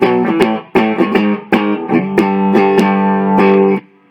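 A distorted electric guitar plays a power-chord riff. Loud, close, choppy chords are separated by brief muted gaps, and a final chord rings out before cutting off.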